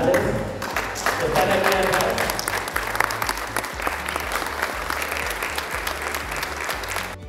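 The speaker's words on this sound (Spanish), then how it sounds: "les ruego que se pongan de pie y le den un aplauso a sus padres" A standing audience at a tourism management degree graduation ceremony applauds the graduates' parents, with loud, sustained clapping from many hands over crowd murmur and low music.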